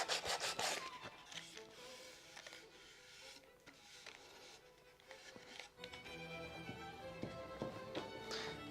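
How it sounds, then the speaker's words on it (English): Sandpaper rubbing over a painted surface during second-coat sanding, with steady scraping strokes and occasional taps, fairly faint and close, no talking. "Second coat usually doesn't require much sanding."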